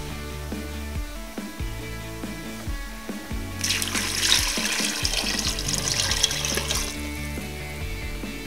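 Tap water runs steadily into a cooking pot already holding vegetables and peas for a pea stew, then splashes and hisses more strongly as the flow picks up, close by with no talk.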